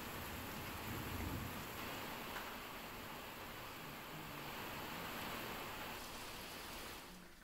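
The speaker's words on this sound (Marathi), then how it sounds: "सिंधुदुर्गातल्या पावसाची ही दृश्य।" Heavy monsoon rain falls in Sindhudurg on the Konkan coast, a dense, even wash of steady hiss that holds throughout at a moderate, distant level and fades slightly at the end.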